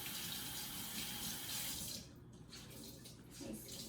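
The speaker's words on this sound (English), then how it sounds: "I take my cloth and I get it wet with some warm water" Warm water runs from a kitchen tap onto a cloth in a steady close splashing stream, its tone shifting and softening midway as the cloth is held under the flow.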